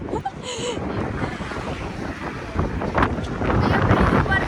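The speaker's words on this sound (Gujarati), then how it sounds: "બેટ દ્વારકામાં આજે બહુ પવન ચડ્યો." Strong gusting wind at Bet Dwarka buffets the microphone with a continuous roar, with waves and water faintly underneath.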